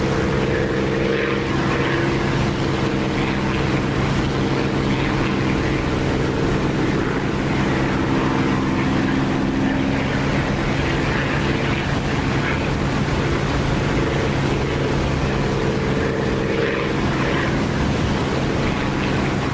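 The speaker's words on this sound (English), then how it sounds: "I brought my engine sound down a bit and the game sound generally" A steady, droning propeller-aircraft engine in the DCS flight simulator game hums continuously throughout, low and even with no voices, like an in-cockpit engine sound.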